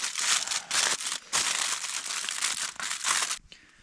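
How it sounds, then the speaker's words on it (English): Tin foil crinkled and crumpled over a tray of campfire brownies in a snowy winter camp, with several close, crisp bursts of rustling separated by short pauses. "Just cover it up with some good old tin foil."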